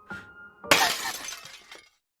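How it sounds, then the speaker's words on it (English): Glass shatters in the horror video game Saint Maker: a short tone, then a sudden sharp crash of breaking glass followed by tinkling shards that scatter and fade into silence. "That's like we broke glass."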